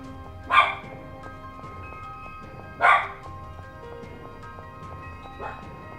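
Dogs barking in the Lost Sphear video game, two sharp loud barks a couple of seconds apart and a fainter third one, over a quiet musical background.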